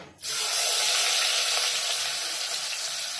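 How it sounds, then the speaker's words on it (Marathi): Sliced onion drops into hot oil for misal and breaks into a loud, steady hiss and sizzle that starts abruptly and continues evenly, close up with no talking. "इथे तेल पण तापायला ठेवलं आहे आता आपण ह्याच्यात कांदा टाकूया थोडा"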